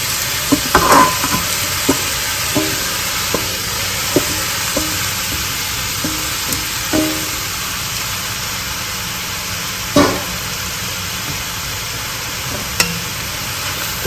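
Diced mirepoix vegetables for a Bolognese sauce sizzle steadily in hot oil while a utensil stirs and scrapes the pot now and then, with a few clanks.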